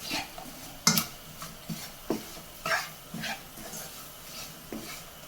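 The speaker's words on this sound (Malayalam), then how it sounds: "ഇത് നമുക്ക് ഇളക്കി വഴറ്റിയെടുക്കാം" Gram flour with asafoetida is stirred as it roasts in a pan, giving repeated scraping strokes and spoon-on-metal clinks at a steady, unhurried pace.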